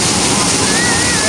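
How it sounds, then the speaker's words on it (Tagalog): Kawasan Falls pours in a steady, loud broadband roar of rushing water, dense and unbroken throughout the short stretch. "Kawasan Fall. Ayan, level 1 falls."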